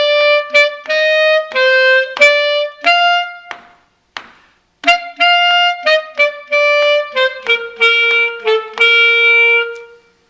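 A sixth-grade school band plays a syncopated rhythm exercise from line 125: crisp, loud sustained notes with short gaps and tied off-beat accents, a brief pause partway through, and no talking.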